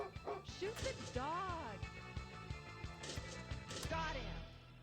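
A dog yips and whimpers in short, pitched cries on a Fallout-themed pinball table in Pinball FX3, mixed with clicks and rolling game effects, while a voice talks over it.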